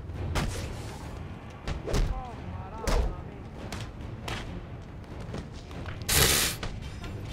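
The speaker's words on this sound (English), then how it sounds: "Oh god, fire extinguisher." A fire extinguisher bursts during a street brawl in Batman: Arkham Origins, a sharp, loud hissing blast near the end that follows a run of heavy thuds and impacts.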